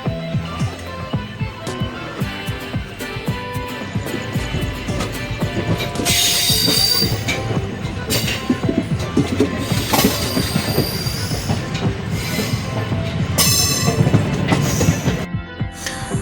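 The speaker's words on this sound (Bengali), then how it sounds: "ট্রেন কিন্তু নিজের গতিতে ছুটে চলেছে" A train rumbles steadily along the rails with metallic wheel squeals and rhythmic clatter, loud and continuous throughout.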